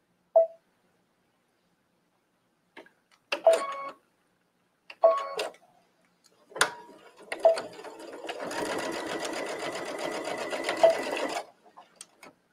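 A home sewing machine stitching a seam for a trench coat: several short stop-start bursts, then a steady run of rapid stitching for about three seconds, close by with no talking.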